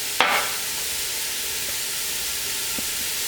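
Ground beef seasoned with salt and pepper browning in a pan for a lowfat chili, a steady broad sizzle and hiss heard close, opened by one sharp scrape as it is stirred, no talking.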